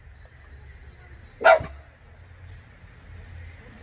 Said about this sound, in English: Don't bark at the neighbors.